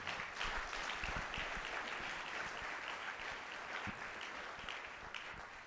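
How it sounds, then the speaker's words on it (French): Sustained applause from a church congregation, steady and dense throughout, fairly distant with faint scattered voices mixed in. "Est-ce qu'on peut acclamer pour cette parole?"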